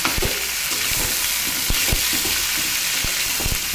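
Pumpkin pieces with salt and turmeric fry loudly in a hot pan, a dense continuous sizzle broken by several sharp clacks and scrapes of a spatula stirring.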